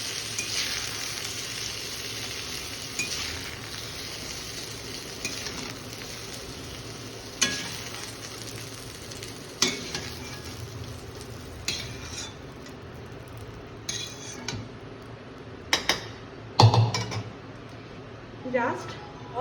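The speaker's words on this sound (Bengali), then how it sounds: "বেগুনগুলো মোটামুটি কষানো হয়ে গেছে, এবার আমি এগুলোকে তুলে নেব।" Eggplant pieces fry in a pan under a steady low sizzle, with intermittent sharp scrapes and clinks of a spatula against metal as they are stirred, growing busier toward the end.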